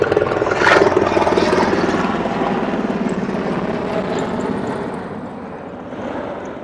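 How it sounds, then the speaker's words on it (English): UH-60 Black Hawk military helicopters flying in near an airfield, a loud, close engine roar with rapid rhythmic rotor chop that swells early and then slowly eases while staying dominant, with no voices over it. "It's actually a Blackhawk."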